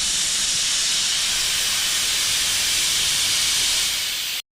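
A pressure cooker's whistle blows steam continuously over a high gas flame while fried rice cooks inside, a loud, steady, close hiss lasting about four seconds before cutting off abruptly.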